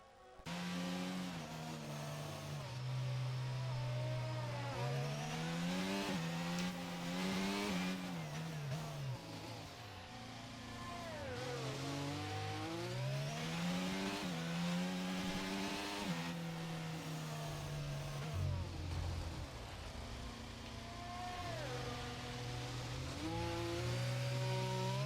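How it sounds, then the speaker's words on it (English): Race cars on a Spanish circuit during a qualifying session rev and whine steadily as a pack pulls into the pits, with engine pitch sweeping up and down continuously over about 25 seconds, loud and close with no talk. "a gang of cars all pulling up into the pits, although the Ferrari does stay out"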